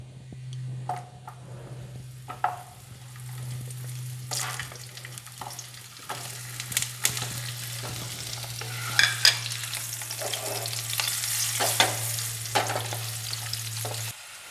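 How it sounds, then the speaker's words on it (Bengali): Potatoes sizzle steadily as they fry in a hot pan, with scattered clicks and scrapes of stirring over a constant low hum. "এবার আমি আলুগুলো ভেজে নেব"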